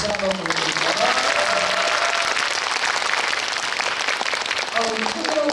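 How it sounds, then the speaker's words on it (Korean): A cinema audience at a special screening Q&A at CGV Yeongdeungpo STARIUM hall claps in a sustained, dense round of applause, with voices rising over it at the start and near the end. "영화를 흡수해주신 모든 분들께 박수 한번 보여드릴까요?"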